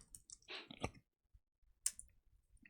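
Light clicking taps at a computer keyboard, a few quiet keystrokes in a short burst and then a single later click, close and faint with no voices.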